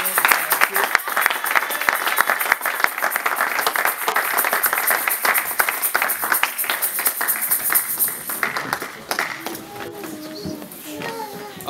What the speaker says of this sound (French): nous acclamons très fortement le Seigneur